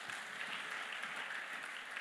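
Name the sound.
congregation applause in church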